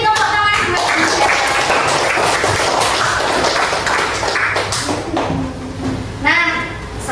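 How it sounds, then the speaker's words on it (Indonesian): Classroom applause for a student named Jihan, broad clapping from a group filling most of the stretch, with voices speaking near the start and again toward the end. "Beri tepuk tangan buat Jihan"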